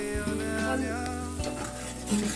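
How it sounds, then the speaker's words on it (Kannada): Sprouted horse gram sizzles and crackles as it fries in a pan while a utensil scrapes and stirs, with a few clinks of metal against the cookware. "ಮೊಳಕೆ ಕಾಳನ್ನ ಹಾಕಿ ಸ್ವಲ್ಪ ಫ್ರೈ ಮಾಡಬೇಕು"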